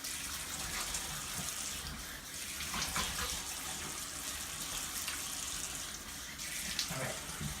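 Water runs steadily from a tap into a sink while a face is wetted for a shave, a constant close splashing stream with small bursts of extra splashing.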